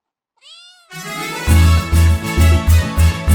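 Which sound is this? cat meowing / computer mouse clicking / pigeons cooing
cat meowing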